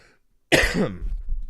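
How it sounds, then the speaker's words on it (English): A single sharp cough bursts out after a moment of near silence, followed by a brief rough throat sound. "I did not mean to cough in y'all's ears"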